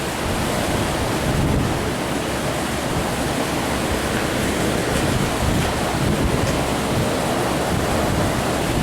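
Carburetor cleaner sprayed from an aerosol can onto a Chevy 350 engine, a steady, loud, close hiss lasting the full stretch without a break.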